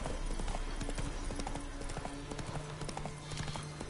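Horse hooves clip-clop steadily in The Witcher 3 video game, a rapid even rhythm of close, clear hoofbeats under low ambient game sound.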